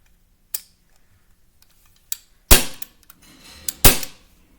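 Several sharp shots from a full-metal CO2 Glock 19 replica pistol with a non-blowback slide, irregularly spaced with a few light clicks between, loud and close with no talking.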